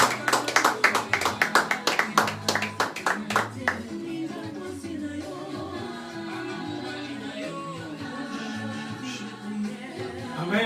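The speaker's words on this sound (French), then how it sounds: "sous vos acclamations au nom de Seigneur Jésus-Christ" A church congregation claps together in rhythm at a special worship service, loud sharp beats for nearly four seconds, then the clapping gives way to a dense wash of music and voices.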